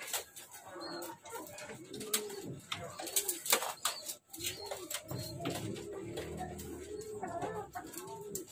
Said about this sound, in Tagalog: Unbox na natin tong mga young bird natin na galing Bio Pigeon.